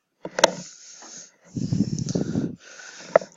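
Breath blown through a tube into water during a gas-volume demonstration, heard as a short burst of low bubbling and gurgling between breathy hisses, fairly close and moderately loud, with no talk.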